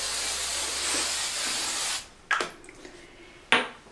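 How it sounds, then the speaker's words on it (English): Hairspray mists steadily from a can onto a styled fake ponytail, a close continuous hiss of about two seconds, followed by a few soft handling clicks. "A little spray."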